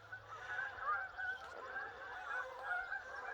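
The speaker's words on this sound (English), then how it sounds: "one of the largest flocks of geese I think I've ever seen" A large flock of geese honking continuously, many overlapping calls at moderate distance, steady and busy throughout.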